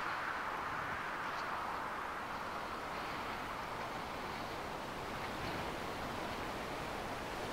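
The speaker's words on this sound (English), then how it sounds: "You can hear the wind as well, look." Steady wind blowing across open sea in the sailing video game Sailwind, a constant broadband rush with the wash of waves beneath, loud and unbroken throughout with no voices.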